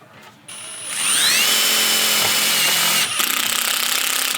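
Cordless power drill driving a metal screw into deck rail hardware, loud and close: a high whine spins up, then the motor bogs and slows as the screw bites, with a brief pause and a second burst.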